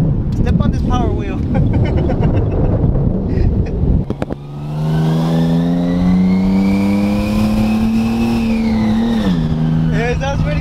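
A toy ride-on Power Wheels truck with an upgraded motor revs up, its electric motor whine rising into a loud, steady drone after a few seconds of noisy chatter and movement.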